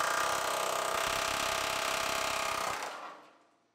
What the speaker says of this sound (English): We cut a slice in it with the reciprocating saw